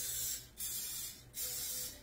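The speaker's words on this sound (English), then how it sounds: "now I'm going to spray them" Cooking spray hisses onto a hot popover pastry pan in three short bursts separated by brief pauses, close and clear.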